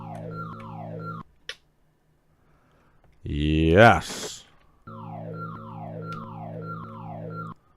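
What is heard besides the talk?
alarms going off in the Amiga video game Covert Action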